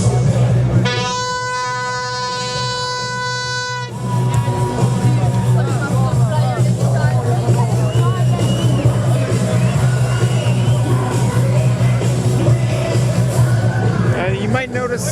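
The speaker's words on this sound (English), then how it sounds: "It's a very sizable crowd, very raucous crowd, comprised mostly of young people" A large, raucous election-night crowd of mostly young party supporters in Kosovo, a dense wall of close cheering and shouting babble, with a sustained electronic tone over the first few seconds.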